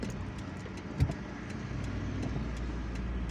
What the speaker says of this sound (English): And now we are driving onto this street.